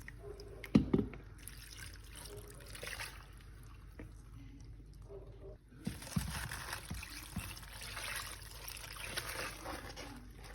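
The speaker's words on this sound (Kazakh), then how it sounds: "тұзымызды салып суға араластырып бетіне құятын боламыз" Salted water is poured over Chinese cabbage in a bowl for kimchi, with soft trickling and pouring splashes at moderate level, a brief knock near the start and a fuller pour toward the end.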